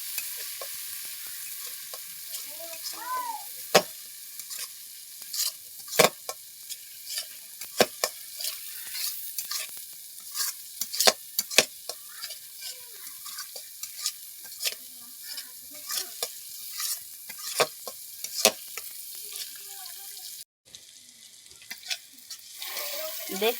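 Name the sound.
spice paste being sautéed in oil for soybean potato curry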